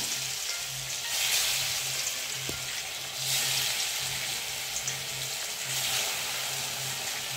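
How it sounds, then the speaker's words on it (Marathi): Steady broadband sizzling and bubbling of coriander fritters (kothimbir vadi) deep frying in hot oil over medium heat, continuous throughout with slight surges, no voices. "हळूहळू याच्यात आपण आता डीप फ्राय करायला सोडायच्या आहेत वड्या।"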